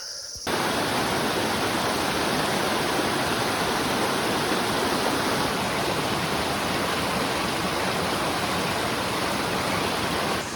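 A river stream flows along a forest trail, its rushing water a dense, steady wash, loud and close with no pauses.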